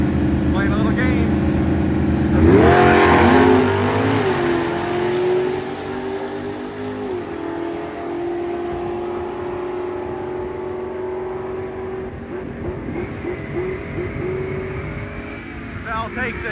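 A Chevrolet Chevelle hot rod at a drag racing event launching hard, its engine roaring up through a rising rev sweep, then holding a loud steady drone before more revving near the end, with people talking over it.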